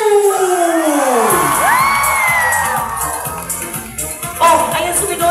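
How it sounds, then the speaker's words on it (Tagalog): A large crowd at an outdoor proclamation rally concert shouts and cheers loudly and continuously, with whoops and high yells swelling over a dense roar that eases slightly before another burst near the end. "Oh, ayan, sumigaw na sila."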